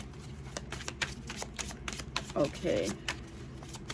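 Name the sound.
shuffling tarot cards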